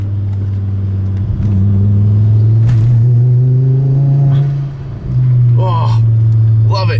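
A loud Volvo V70R engine fitted with a new intake idles with a deep rumble and rises in pitch as it revs, briefly dropping before climbing again, with excited exclamations over it.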